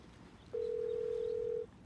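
A phone call rings unanswered, a single steady tone lasting about a second, moderately loud over a low background hum, with no one speaking.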